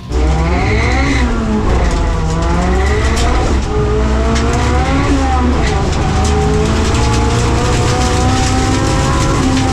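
A 515-horsepower rear-wheel-drive Honda Civic accelerates hard through its gears, its loud engine rising in pitch, dropping at each shift and climbing again, close and continuous with a voice over it.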